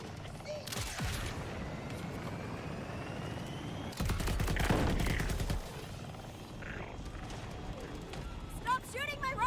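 Bursts of gunfire hit a vehicle amid game action, with a heavy rattling volley in the middle and scattered shots around it, while someone talks over the scene.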